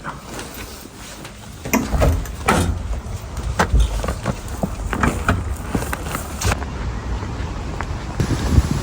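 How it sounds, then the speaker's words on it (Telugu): Gusty wind after rain buffeting the microphone outside a shop with low rumbling roar, plus occasional knocks and rustles nearby; no speech. "వర్షం అయితే అయిపోయింది కానీ చాలా గాలి వస్తుంది"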